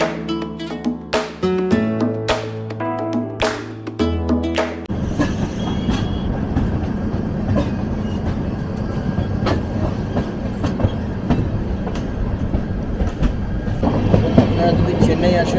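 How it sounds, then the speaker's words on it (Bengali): A double-decker train stands at Ambur Junction and then rolls through it, with musical tones at the start giving way to loud, continuous rumbling and clacking of wheels, and voices audible faintly underneath. "বেঙ্গালুরু সিটি জংশন থেকে ছেড়ে 177 কিলোমিটার ক্রস করে আমাদের ট্রেন এসে পৌঁছলো আম্বুর জংশনে।"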